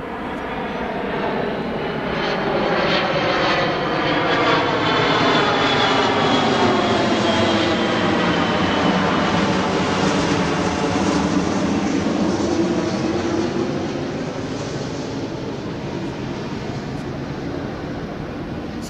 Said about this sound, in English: Send me your videos from your backyard with airplanes and noise